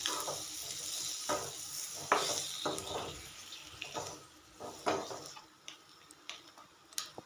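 Spices with turmeric, chili powder and salt frying in oil for quail egg lollipops: a soft, steady sizzle with repeated clinks and scrapes of a spoon against the pan at irregular intervals, fairly quiet and close.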